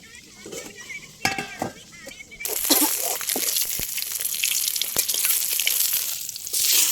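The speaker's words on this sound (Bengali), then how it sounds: "মাছ ভাজিগুলো হয়ে গিয়েছে, এখন আমি মাছ ভাজিগুলো উঠিয়ে নিচ্ছি" Fish frying in hot oil, with a steady bright sizzle that swells loudly partway through, light clinks of utensils and a voice talking over it.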